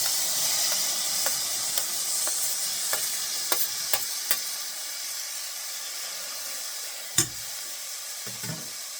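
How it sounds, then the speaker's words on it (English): Chopped tomato and capsicum frying with onions in a pan for pav bhaji: a bright, steady hiss of steam and oil, with scattered spatula taps and scrapes up close. "Now I'll put in the chopped tomato and capsicum."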